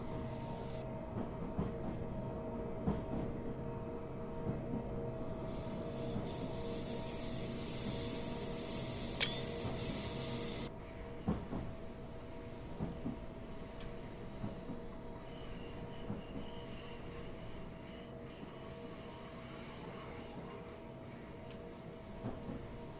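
A small train in the Train Simulator 2014 London to Brighton route rumbles steadily along the rails, with a continuous low drone, faint clicks, and a high whine that starts and stops partway through.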